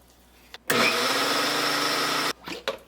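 A Preethi Eco Plus mixer grinder whirs loudly grinding red rice batter for about a second and a half, a steady high motor drone, then stops, followed by a few clunks.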